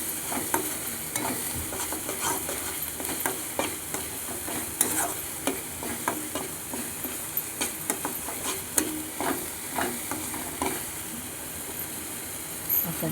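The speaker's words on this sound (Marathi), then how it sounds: "आता तेल सुटत पुन्हा हलवायचं" A spoon repeatedly scrapes and stirs a frying mixture in a pan as the oil separates, giving rhythmic close scrapes over a steady sizzle and no talking.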